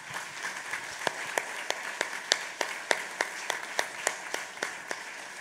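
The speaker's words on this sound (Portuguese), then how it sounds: "Para ele, um grande aplauso." Sparse, evenly spaced hand claps ring out from a live show audience, a steady rhythmic beat of separate sharp claps over a soft background murmur.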